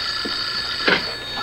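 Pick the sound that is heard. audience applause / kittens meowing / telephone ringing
telephone ringing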